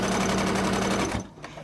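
A sewing machine runs steadily at speed while stitching the tab of a fabric sunglasses case, then stops abruptly, leaving a short quiet tail.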